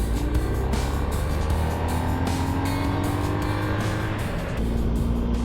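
A motorcycle pulls away after refuelling on a fall ride through Ontario's Muskoka region, its engine droning loud and close with rising pitch as it gathers speed.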